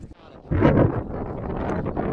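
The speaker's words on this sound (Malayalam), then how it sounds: "നല്ല കാറ്റ്" Strong wind buffets the microphone on a rocky hilltop during a trek up Aanaikal Malai in Kanyakumari, a rough, gusty rush that surges loudly and then holds as a steady roar.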